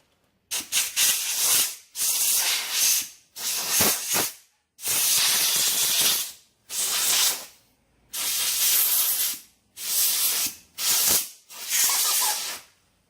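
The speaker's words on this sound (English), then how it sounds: "basically you take an air compressor with a hose and" Compressed air from a compressor hose blasting a firearm clean before painting, in nine loud hissing bursts of one to two seconds each, separated by short pauses.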